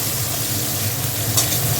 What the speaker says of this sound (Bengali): প্রথমে আলুগুলো দিয়ে একটু ভেজে নেবে